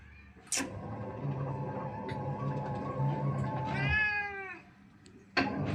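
A cat meows clearly nearby, one drawn-out call with a rising and falling pitch, amid a low background hum and a couple of sharp knocks.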